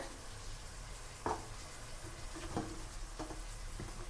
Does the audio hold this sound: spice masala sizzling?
yes